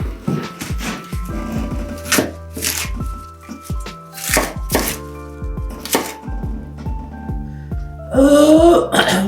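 Knife chopping through cauliflower ribs on a board, a quick irregular series of sharp, close thuds with short pauses, ending in a busier burst of clatter.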